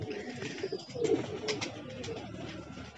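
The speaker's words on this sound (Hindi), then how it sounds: "ये आ चुका है हमारा कबूतर" A pet pigeon back after five days away coos at close range, soft throaty calls repeating over a faint background murmur, with no clear speech.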